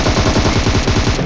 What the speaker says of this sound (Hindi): क्योंकि ओपन में था, सब फायरिंग हो रही थी